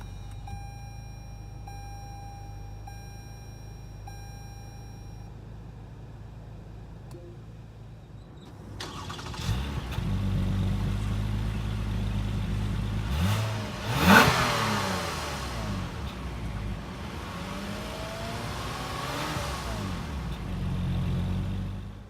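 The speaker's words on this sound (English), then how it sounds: "Put your foot on the brake and hit the dash mounted button to go." A 2019 Lexus ES 350 started with the push button: a few soft electronic chimes in a quiet cabin, then the engine cranks and catches, rising in a brief rev before settling to a steady, smooth idle.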